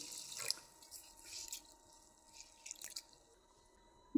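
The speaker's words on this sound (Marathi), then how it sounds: "पाणी टाकून घेऊ. हे 2-3 पाण्याने धुवून घ्यायचं." Soaked urad dal being washed with water in a home kitchen: quiet, intermittent splashes and drips with brief sloshing bursts, no talking.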